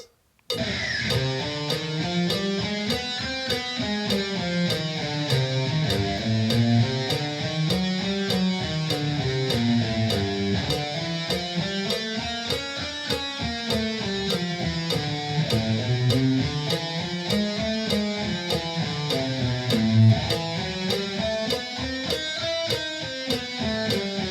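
Electric guitar plays the minor scale as a steady stream of single picked notes, rising and falling in repeated runs, evenly paced and close, with no voices.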